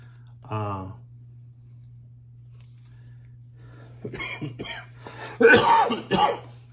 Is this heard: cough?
yes